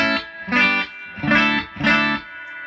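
Electric guitar played through a Vintage Sound Amps 35sc amplifier with reverb, four loud sustained chords struck about every half second with rich harmonic overtones and a short reverb tail at the end.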